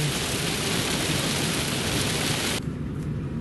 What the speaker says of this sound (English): That's a little rain